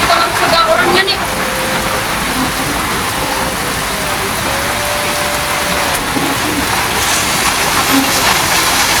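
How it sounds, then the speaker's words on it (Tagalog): Heavy rain pours steadily and loudly onto surfaces around a house, a dense unbroken roar with a faint passing engine hum in the background. "Grabe lakas ng ulan."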